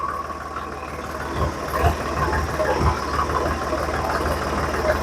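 A second-hand tractor engine idles and runs through a gear test, a steady low diesel rumble with knocking pulses and a slight rise in revs partway through, close and continuous.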